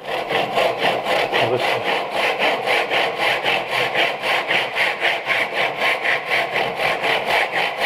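A hand saw cuts wood for a miter joint in steady, even back-and-forth strokes, close and loud, with a brief spoken phrase near the start.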